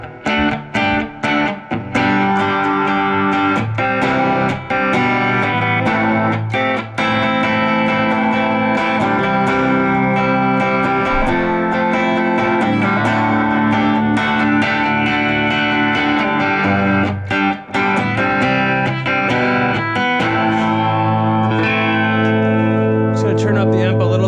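1968 Hofner Verithin electric guitar played through a Toro Servo amp turned up for natural distortion, dense sustained overdriven chords and notes ringing continuously at close, loud level without pause.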